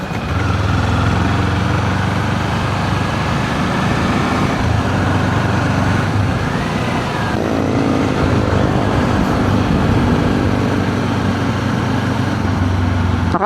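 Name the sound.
road traffic heard while riding a Kawasaki Z400 motorcycle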